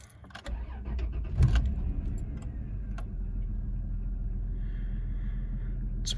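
A high-mileage 1992 Dodge Dynasty LE engine cranks briefly and fires, then settles into a quiet, steady idle heard close by for several seconds.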